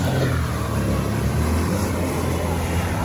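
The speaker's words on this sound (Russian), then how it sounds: "А вот и крымский Мерседес." A Mercedes off-road car with a five-litre engine in an off-road race, its engine revving loudly and steadily nearby under a constant roar, with no speech.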